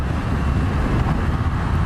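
A 2020 Triumph Rocket 3 GT motorcycle accelerates hard, heard as a dense, low engine roar mixed with heavy wind rush, steady and close throughout.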